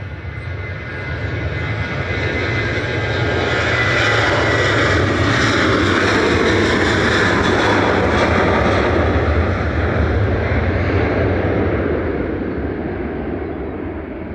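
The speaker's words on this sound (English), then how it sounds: "the Express departing to Antalya TC SEU with flight 595" A passenger jet departing Manchester Airport for Antalya roars steadily, a loud broadband engine rumble with a hissing upper layer that swells slightly midway and then holds, with no voices.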